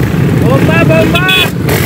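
A motorcycle engine starts and revs right up close among a noisy roadside crowd, its rising engine note partly buried under loud, excited shouting voices.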